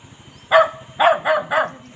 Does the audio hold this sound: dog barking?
yes